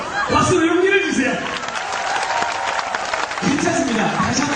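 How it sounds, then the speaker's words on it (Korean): A church congregation at a Wednesday service applauds to encourage a volunteer, loose clapping running beneath a speaking voice that rises and falls throughout. "여러분, 박수로 용기를 주세요"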